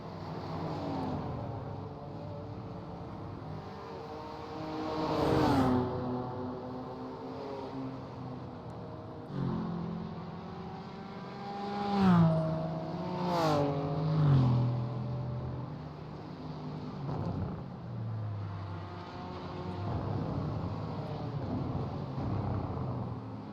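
GT4-class BMW race cars lapping Road Atlanta, engines droning and rising in pitch as they pass, with a couple of louder fly-bys partway through.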